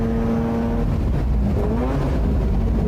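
A race car driven hard on a circuit during a race, its engine droning loudly and continuously with shifting tones as it passes a troubled BMW on the inside.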